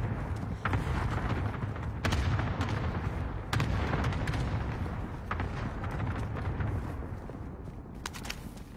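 Cluster airstrike explosions in a battle royale video game, a dense rumbling barrage of overlapping booms and sharp cracks rolling on continuously, loud and close with no talking.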